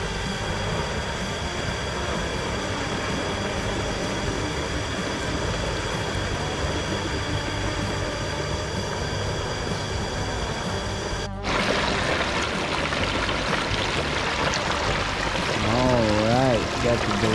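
A whole turkey is lowered slowly into hot frying oil, giving a dense, steady hiss of bubbling and sizzling that turns louder and rougher partway through and keeps going.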